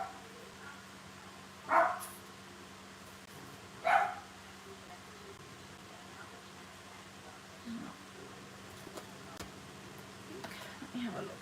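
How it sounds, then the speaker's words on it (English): A pet dog named Benny barks in the background of a home craft room, two sharp bursts a couple of seconds apart followed by fainter yips, mixed with a steady electrical hum and low room noise. "Sorry about the barking in the background."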